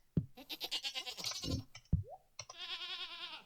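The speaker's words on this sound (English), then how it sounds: "Pet the goat." A goat in the farming game Stardew Valley bleats when petted, a series of wavering, nasal bleats with soft thumps between them, close and clear with no talk over it.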